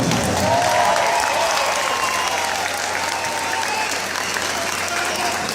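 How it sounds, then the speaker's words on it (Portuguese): A large concert audience applauding steadily throughout, a dense wash of clapping, loud and sustained without a break. "Vamos aplaudir, vamos aplaudir"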